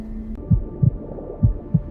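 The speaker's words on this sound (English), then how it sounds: "Then came the heartbeat," Heartbeat of an Ankylosaurus embryo, four deep, soft thumps in a slow, steady rhythm over a low hum, with a brief tone at the start and no talk.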